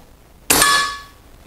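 An air rifle fires a diabolo pellet into a ballistic gelatine block: one sharp metallic crack with a short ringing tail, near and loud, alone against quiet.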